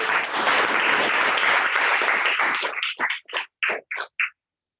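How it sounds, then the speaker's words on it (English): Audience at a Toastmasters club meeting gives a full round of applause for an evaluator and speaker, dense steady clapping that thins into a few last scattered claps and then stops. "let's give the evaluator and the speaker a good round of applause."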